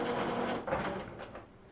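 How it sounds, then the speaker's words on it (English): An Epson WorkForce WF-7710 printer runs with a steady, close mechanical whir and hum that swells slightly midway, with no talking. "Obviously apologize for the noise of the printer."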